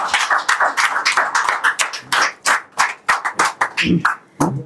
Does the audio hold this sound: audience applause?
yes